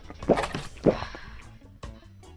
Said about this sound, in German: Oh, hier ist Wasser.